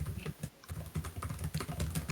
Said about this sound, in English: I'm just gonna finish typing this before we continue.